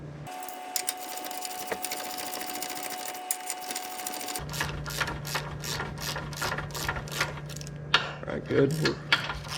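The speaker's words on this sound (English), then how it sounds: "I'll get a ratchet and kind of run that in a little bit." A ratchet clicks in a quick repeated burst as it runs a bolt into the lower control arm of a 2009 Nissan Versa during a ball joint replacement, close and fairly loud over a steady hum, with a short spoken remark.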